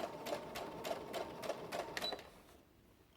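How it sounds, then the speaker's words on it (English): A sewing machine running a long basting stitch down the pleats of a dress bodice, a steady close rhythmic whirr of needle strokes at about three per second that stops near the end, with no talking. "The machine should still be on your basting stitch, and just go ahead and baste all the way down."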